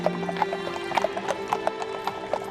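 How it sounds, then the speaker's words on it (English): Army horses on a training ride through a cemetery, hooves clip-clopping in a steady uneven rhythm close by, with a horse whinnying and a low steady hum underneath. "soldiers conduct training rides through the cemetery to familiarize the horses and themselves with the environment"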